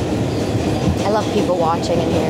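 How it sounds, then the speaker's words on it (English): A New York City subway train runs with a steady rumble and rattling wheel noise, while someone talks over it in the car. "When you're on the subway, this is New York City, right?"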